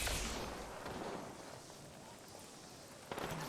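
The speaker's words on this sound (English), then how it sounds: "Taking fire, brother." Gunfire in Apex Legends: muffled bursts of shots and booming blasts over a dense, noisy battle background, with a sharper report near the end.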